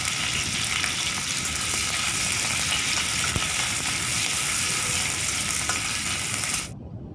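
Finely chopped medium onions sizzle steadily in hot oil, a dense, even crackle that stops abruptly at the end.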